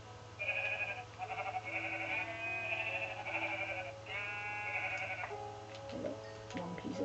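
Several Minecraft sheep bleat repeatedly in wavering, nasal cries over a steady low hum, with a few clicks and knocks near the end, on Xbox 360.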